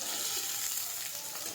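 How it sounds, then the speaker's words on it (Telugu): Bitter gourd pieces frying in hot oil in a pan, a steady close sizzle with a bright hiss, continuous and even throughout with no talk. "ఇప్పుడు ఆయిల్లో ఫ్రై చేసుకోవాలి ఆ ముక్కల్ని"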